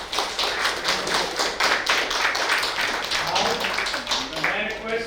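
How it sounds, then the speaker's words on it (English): Applause from a conference audience at an environment and governance panel, a dense, steady patter of many hands clapping that carries on throughout at moderate loudness. "big round of applause for him."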